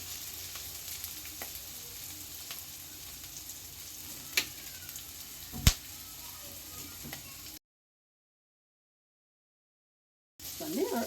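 Two small tomatoes go into a hot pan, with a couple of sharp knocks amid a low, steady sizzle; the hiss cuts out completely for a few seconds, then returns louder.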